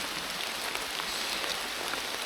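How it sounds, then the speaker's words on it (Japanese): Heavy rain falls on a mountain trail in Patagonia, a dense, steady, close wash of patter with no pauses and no voices. "でその辺から大雨降るようになってきて、"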